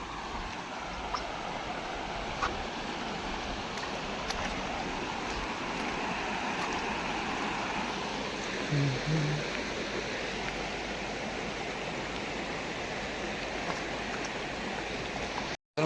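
A swollen stream after heavy rain in rural Konkan rushes in a constant, broad wash of flowing water, even and unbroken for the whole stretch, with no voices.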